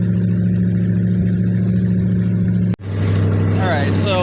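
Engine of a 1978 Ford LTD sedan idling with a steady low hum up close, briefly cut by a sharp break, then resuming with added rattle and some whine.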